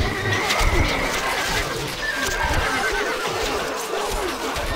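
A horse neighs in the strategy game Stronghold Crusader, a whinny rising over a steady, noisy background with no talk in the clip.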